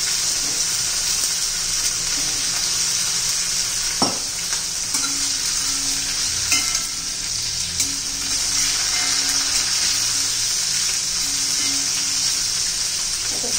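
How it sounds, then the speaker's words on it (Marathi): Green chillies sautéing in hot oil for a chilli bhaji give a steady, close sizzle with occasional spoon stirs and a soft clack of the utensil, unbroken by talk. "एक 2-3 मिनिटं चांगल्या नंतर तेलामध्ये परतून घ्यायचं आहे"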